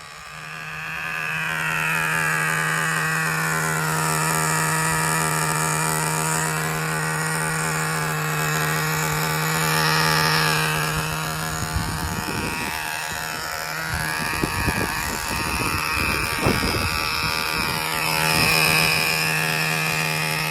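An HPI Super Nitro RS4 radio-controlled car's small nitro engine idles during break-in, a continuous high, buzzing drone held steady and close, with a few brief knocks and handling noises near the end.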